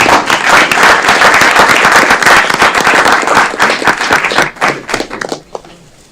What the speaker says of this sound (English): Another round of applause for Abigail